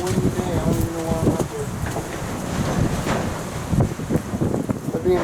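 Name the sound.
wind blowing into microphone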